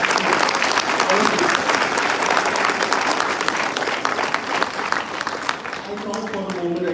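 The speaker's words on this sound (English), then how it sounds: "Clap for yourself." An audience at an HR conclave applauds loudly and steadily, a thick, close wash of many hands clapping that holds for several seconds before easing slightly, with some voices murmuring underneath.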